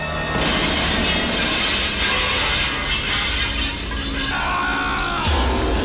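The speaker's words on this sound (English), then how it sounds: "Was he too sensitive to the glass breaking?" Glass shatters in a movie scene, a loud, dense crash of breaking shards that fills several seconds before cutting off abruptly near the end.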